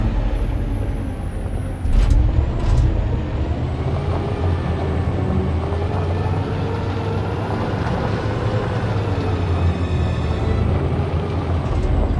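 Heavy truck engine rumbling steadily at close range in the Detroit: Become Human video game, with a sharp air-brake hiss near the start amid dense low-end drone.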